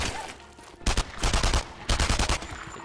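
Two loud bursts of rapid tap-fired shots from a World War II shooter game, Enemy Front, each volley a quick string of cracks separated by a short pause, with quieter ambient game noise between.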